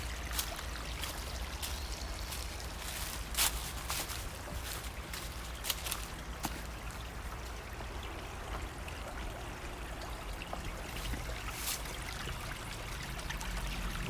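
Clean spring water flows steadily outdoors in Japan, a continuous broadband rush and trickle with occasional brighter splashes, close and constant with no voices.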